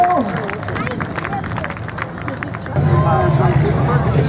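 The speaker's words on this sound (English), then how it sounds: "can we get a round of applause for all of our drivers that came out, made it to the feature event?" Spectators at a bump-and-run style race at the Posen Potato Festival in Michigan give a dense, sustained round of applause and crowd noise that grows louder partway through, with voices mixed into the din.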